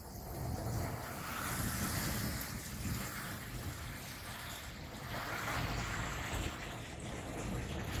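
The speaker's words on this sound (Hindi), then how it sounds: "अब फ्रेश वाटर से, क्लीन वाटर से उसको उतारा जा रहा है।" Steady rushing wash of water spray rinsing a car in an automatic car wash, continuous and fairly loud, with a low rumbling undertone and no voices.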